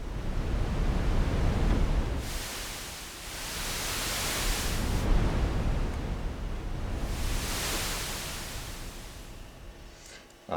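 Noise from an ARP 2600 synthesizer's noise generator rises and falls in slow, rolling swells like waves washing ashore, two broad surges of hiss over a rumbling low bed.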